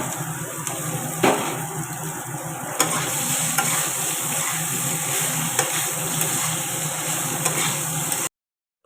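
Food frying and being stirred in a wok with chopped chillies, bitter gourd and potato, a steady loud sizzle with scraping stirs throughout, ending in a sudden cut to silence.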